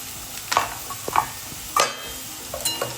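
Mushrooms sizzle in a pan with onion and tomato for a mushroom masala, with a few scattered stirring scrapes and soft spatters over a quiet, steady sizzle.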